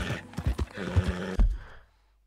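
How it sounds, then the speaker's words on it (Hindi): Horse in the video game Red Dead Redemption 2 snorting and panting heavily, with a few hoof thuds mixed in, close and fairly loud before trailing off into near silence. "घोड़ा भी कैसे हांफने लग गया है।"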